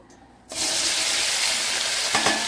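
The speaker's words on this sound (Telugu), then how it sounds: "ఆయిల్ అయితే హీట్ అయిందండి ఈ పనసకాయ ముక్కలని వేసుకుందాము" Jackfruit pieces drop into hot oil and set off a loud, steady sizzle that holds at close range, with a brief stir clatter near the end.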